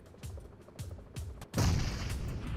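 Gunfire exchanged between players in PUBG Metro Royale: a few sharp separate shots at a steady pace, then a louder, denser burst of firing that keeps going to the end.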